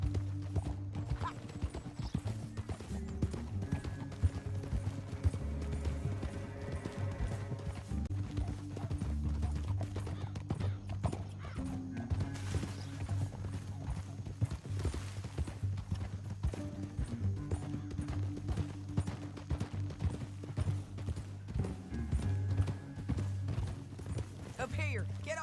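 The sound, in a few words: horses galloping in video game Red Dead Redemption 2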